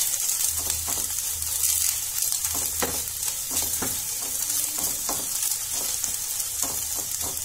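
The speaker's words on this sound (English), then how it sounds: "I've been frying this like 10 minutes." Soya chunks sizzle steadily in a hot frying pan, with scattered scrapes and clinks of stirring over the constant hiss.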